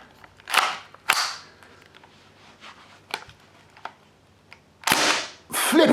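KWC KCB-07 mini Uzi airsoft gas blowback gun (2011 version) firing BBs, giving several sharp, loud cracks spaced apart, then a denser burst of rapid shots near the end, with no voices.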